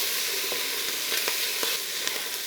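Garlic sizzles in a pan with ham, celery and onions, a steady close crackle broken by a few sharper pops from stirring, with no talk.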